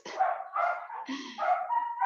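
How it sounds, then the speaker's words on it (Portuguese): A female dog barks close and loud in a quick run of yappy, whining barks, filling the short moment with no talk over it. "eu tô com a cachorra aqui que tá o caos."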